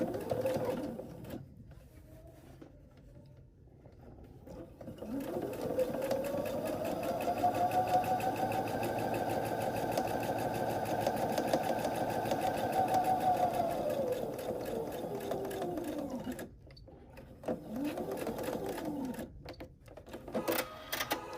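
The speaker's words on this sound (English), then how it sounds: "we're going to sew the other side, again using a 1/4 inch seam allowance" A sewing machine runs a quarter-inch seam on a quilted baby block, whirring steadily for about ten seconds after a short start, then stopping and starting in brief bursts. The sound is close and moderately loud, with no talking.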